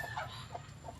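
A broody hen sitting on eggs makes soft, low clucks in a quick, uneven series, faint and close against steady background hiss.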